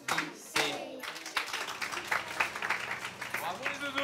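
Children clap their hands in a school canteen, a burst of quick, uneven claps under adult voices and general chatter.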